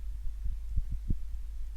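A computer fan roars under heavy CPU load on a Core i7 4790 system while it runs a PS3 emulator, giving a steady loud low hum with rhythmic throbbing pulses in it. No one speaks.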